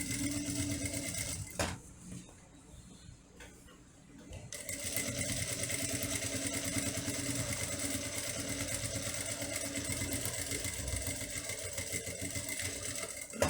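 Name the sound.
sewing machine stitching a fabric wallet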